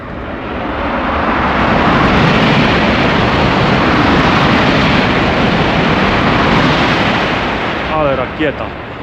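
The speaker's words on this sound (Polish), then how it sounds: "te pociągi lecą z 300 na godzinę. O, leci kolejny." A loud, sustained roaring rush fills the whole clip as a high-speed train tears past nearby at about 300 km/h in Busan, easing slightly near the end.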